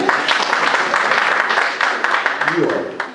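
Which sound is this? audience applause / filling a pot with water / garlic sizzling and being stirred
audience applause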